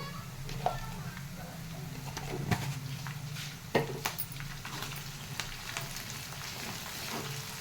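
Bitter gourd frying with curry leaves in a pan, a soft steady sizzle with occasional sharp pops and stirring knocks, fairly quiet and close, no one speaking over it.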